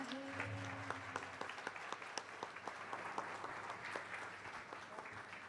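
An audience claps steadily after a Marathi song at a musical tribute concert, a dense wash of applause with sharp individual claps throughout, moderately distant and sustained.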